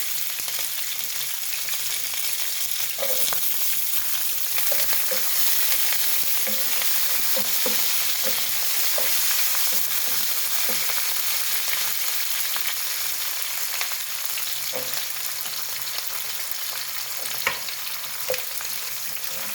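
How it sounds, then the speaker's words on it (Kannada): Onion and curry leaves frying in a pan for buttermilk sambar, a soft continuous sizzle with scattered light spoon scrapes and taps, no voices. "ಆನಿಯನ್ ಸ್ವಲ್ಪ ಫ್ರೈ ಆಗಲಿ."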